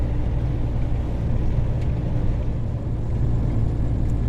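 A car rolls along a snowy night road in Ukraine on the way to Mykolaiv, heard from inside as a steady, loud low engine and road rumble with no break.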